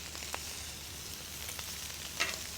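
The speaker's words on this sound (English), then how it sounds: "Like this first one I just put on is already" Lamb chops sear on a hot cooking surface, giving a steady, even sizzle with a few faint pops and small crackles scattered through it and no talking.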